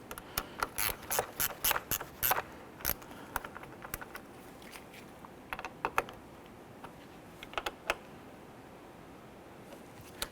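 Ratchet tightening the battery terminals on a 2012-2017 Toyota Camry, heard as bursts of quick close clicking with short pauses between strokes, no talking.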